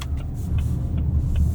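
A 2024 Lincoln Nautilus Black Label on a road drive on 22-inch wheels, its cabin filled with a low, steady rumble of road and engine noise, with a few faint ticks and no talking.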